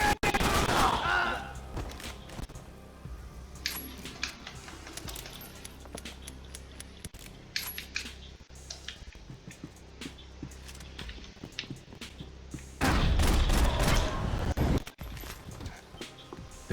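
Gunfire in the game Max Payne 3, a mix of scattered single shots and short rapid bursts, with a heavy, loud volley near the end, over clinking and clattering debris.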